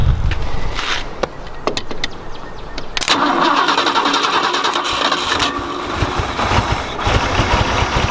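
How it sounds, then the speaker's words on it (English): Ford F-100 truck engine cranked to life by jumping the solenoid, with a few clicks and cranking before it catches around three seconds and settles into a loud, steady idle close by, no talking. "I have to just turn the key to the on position and then just jump the solenoid to start it."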